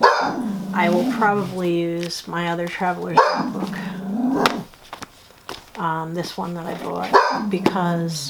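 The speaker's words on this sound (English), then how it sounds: "Sorry about the barking." A dog barks several times, loud and close, over a person speaking steadily throughout.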